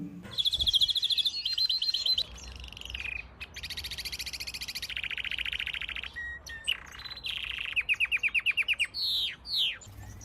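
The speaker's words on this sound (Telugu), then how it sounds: "కనరీ అనే పక్షులు కూడా మనుషుల గొంతును అనుకరిస్తూ పాడగలవు" A canary sings a long, varied song of rapid trills and chirps, with fast repeated notes and sweeping whistles over a low background hum.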